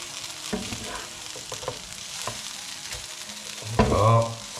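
Onions frying in a pan for duck confit, a soft continuous sizzle with occasional stirring scrapes, ending in a louder, brief burst of spatter near the close.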